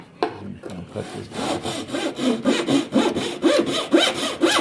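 A hand saw cuts through a wooden board during a room addition build, with steady rhythmic back-and-forth strokes that grow louder and more forceful, close up and with no talking.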